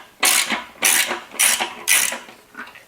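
Bolts being worked loose on either side of the gas tank of a 2006 Honda CBR1000RR: four close, even bursts of metallic ratcheting, each about half a second long, then a fifth softer one.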